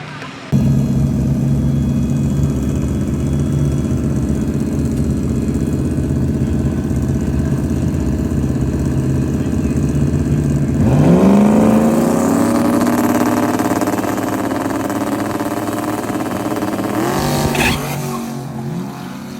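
A drag racing car, the Tang Stang, runs a test pass at a 405 strip: a steady loud engine drone for about ten seconds, then a sharp rise into high revving with sweeping pitch and a second surge near the end.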